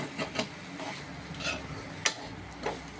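Chicken tawa fry with curry leaves being stirred in a pan, with intermittent scraping clinks of the spoon against the metal over a soft background sizzle.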